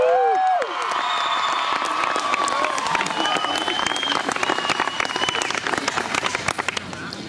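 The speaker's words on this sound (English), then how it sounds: "Could we all just give a big round of applause or a shout out to Dr." Dense audience applause with cheering and whoops at a college candlelight ceremony, loud and sustained, with shouted voices rising over the clapping near the start.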